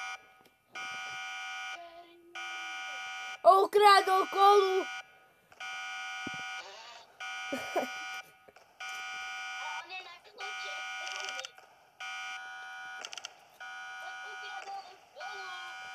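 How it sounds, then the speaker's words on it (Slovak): An electronic alarm blares in a Roblox break-in game, a buzzing tone pulsing on and off about once a second; players talk over it partway through. "Alarm is going off."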